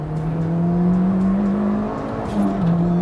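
A Honda Integra Type R DC2 with a K20 engine accelerating hard, its loud, steady engine note climbing through a gear with a short shift dip near the end, heard close and without talk.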